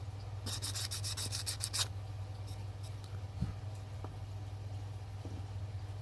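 Sandpaper rubbed by hand along a blade bevel, a quick run of close, bright scratchy strokes early on, then quieter faint rubbing over a steady low hum.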